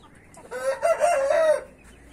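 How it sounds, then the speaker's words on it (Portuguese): A large rooster crows once nearby, a loud drawn-out call rising and holding for about a second before trailing off into quiet. "E peguei esse galo aqui. É um galo grande"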